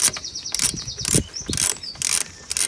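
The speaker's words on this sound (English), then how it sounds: "And that should just screw all the way out now." Ratchet wrench backing out a motorcycle brake caliper retaining bolt, heard as several short bursts of rapid clicking up close, separated by brief pauses.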